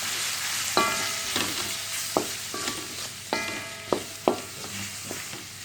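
Spices for a Malaysian-style crab curry masala fry in oil with a constant sizzle, broken by several sharp scraping strokes of a spoon against the pan, close and without talk.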